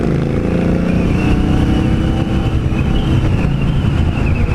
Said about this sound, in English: But yeah, this bike just wants to take off.